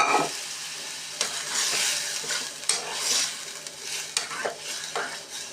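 Chicken pieces fry in a hot pan, sizzling steadily while a utensil stirs and scrapes them in short, repeated bursts, close and fairly quiet.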